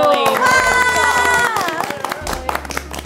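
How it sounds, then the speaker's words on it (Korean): Welcoming applause at a winery: a group's high, sustained cheer and shout opens the moment, then gives way to scattered, lively hand clapping close by. "환영의 박수!"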